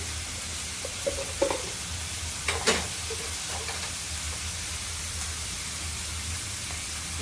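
Tomato and coriander leaves frying in a pan, a soft steady sizzle with a few stirring clinks and scrapes early on, fairly quiet and close.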